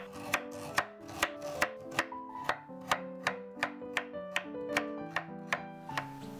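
Carrots are sliced into rounds with a hand cutter on a board, a quiet close series of about fifteen crisp regular chops in a steady rhythm, with no voices.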